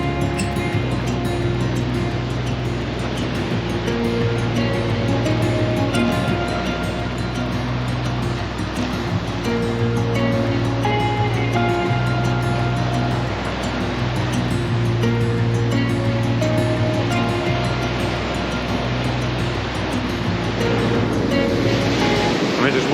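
Big surf breaks continuously at Bronte Beach, a steady loud roar of ocean waves with wind buffeting the microphone, filling the whole stretch without a pause.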